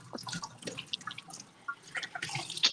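Water splashes and drips in uneven bursts, like bath water, heard faintly through a phone call line with scattered small sploshes and a louder splash near the end.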